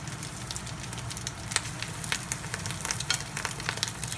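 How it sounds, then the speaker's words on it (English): Okra-shrimp balls frying in hot oil give a dense, continuous crackling sizzle with scattered sharp pops, close and steady throughout, no voices. "Fry them like so."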